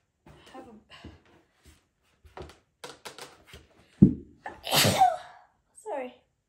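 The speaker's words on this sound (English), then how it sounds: "sorry, I had to sneeze" A single sharp sneeze bursts out after a stretch of quiet speech, followed by a short exhale and a few more spoken words.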